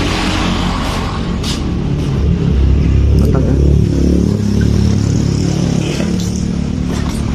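A Yamaha Vixion motorcycle with a dead electric starter, started with its kick starter, runs loud and close with a rough, throbbing rumble that swells as it is revved.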